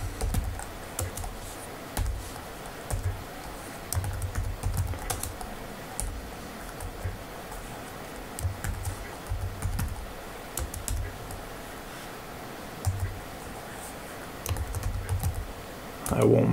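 Keys tapped on a computer keyboard in bursts of quick, close clicks with short pauses between runs, while names are entered for the holes of a flute.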